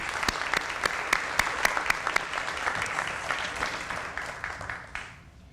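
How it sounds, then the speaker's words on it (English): Guests at a formal dinner break into applause, a room full of clapping with distinct sharp claps standing out near the listener, gradually tapering off toward the end. "So I think that deserves a big round of applause."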